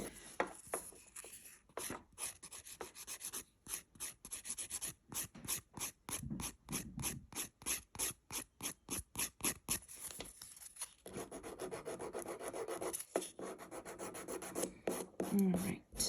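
A nail file smooths builder gel across the top of fingernails in quick, steady back-and-forth rasping strokes, close and fairly quiet, with brief pauses between passes and no talk.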